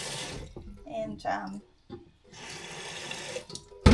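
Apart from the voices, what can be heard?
water running from a tap at the shed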